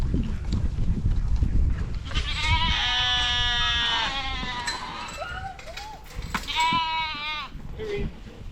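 Baby doll sheep bleat loudly and repeatedly at feeding time, several overlapping calls from close by, with a person talking now and then in between.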